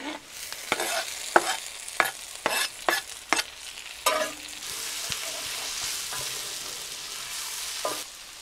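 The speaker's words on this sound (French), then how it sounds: "je vais ajouter ça à mes oignons et mon ail si ils sont assez dorés" Chili con carne base goes into a pan of browning onions and garlic: sharp stirring clacks and scrapes come first, then a steady sizzle takes over, with one more knock near the end.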